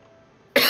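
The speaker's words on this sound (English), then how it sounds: "but it turned out to be a cough." A single sudden, loud, close cough bursts out after a near-silent pause with faint low hum, ending the clip abruptly.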